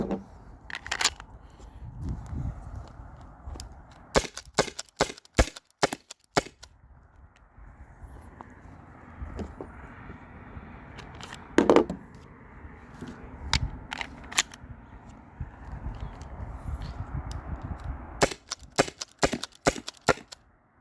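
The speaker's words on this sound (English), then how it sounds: "It makes this like weird popping noise." Byrna SD launcher firing a long series of sharp, dry pops, some single and some in quick clusters, with quieter pauses and handling noises between the shots.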